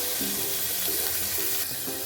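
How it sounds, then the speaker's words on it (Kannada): Chopped tomatoes fry in a pan for a sprouted horse gram sambar, giving a loud, continuous sizzle close up, with occasional stirring scrapes breaking the steady hiss. "ನೋಡಿ, ಈ ಥರ ಚೆನ್ನಾಗಿ ಫ್ರೈ ಮಾಡ್ಕೊಳ್ಳಿ."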